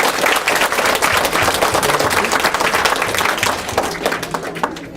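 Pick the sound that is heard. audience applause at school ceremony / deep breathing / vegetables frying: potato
audience applause at school ceremony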